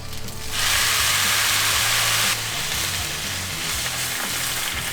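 Water hits a hot pan with a sudden loud sizzle that bursts into hissing steam, then settles into a steadier, quieter frying crackle.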